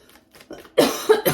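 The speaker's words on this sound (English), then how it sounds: "I was not coughing until right now." A person coughs a few times in quick succession, close and loud after a softer throaty start.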